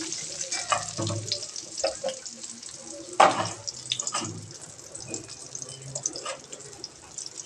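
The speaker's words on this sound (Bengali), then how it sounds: "এভাবে পেঁয়াজটাকে আমরা ভালোভাবে ভেজে নেব" Chopped onions fry in oil in a wok for tomato prawn bhuna, a soft intermittent sizzle broken by scraping stirs and one sharp louder clatter, heard close with little talk.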